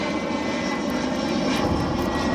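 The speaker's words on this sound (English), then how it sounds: "Sorry about the plane." An airplane drones steadily overhead near an airport on a flight path above a home garden, a loud continuous engine roar filling the whole stretch with no talk.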